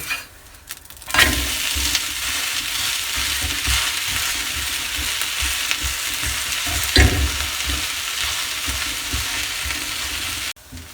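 A pesarattu dosa topped with onion on a hot griddle gives a loud, continuous close sizzle for about ten seconds, with brief scraping bumps as it is flipped and no voices.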